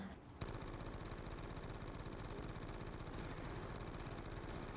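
Sustained automatic fire from an MG08 machine gun in Black Ops 2 Zombies on the Origins map, a dense rapid rattle that starts after a brief silent moment and continues steadily and loudly to the end.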